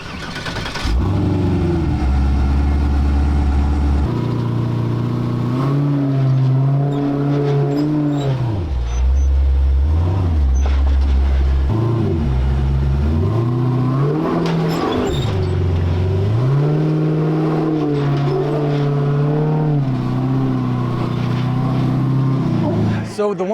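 Off-road Jeep engines rev and strain climbing the Chewy Hill obstacle in Pritchett Canyon, with close, loud throttle bursts rising and falling in pitch over nearly the whole stretch and faint voices underneath.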